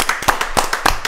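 A few people in a podcast studio clap in a quick, rhythmic burst of close, sharp hand claps for the guests.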